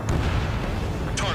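A missile striking an enemy target in the Ace Combat 7 video game, a short, loud, dense rumbling explosion that fills the moment, with a sharper crackling burst near the end over a continuous low roar.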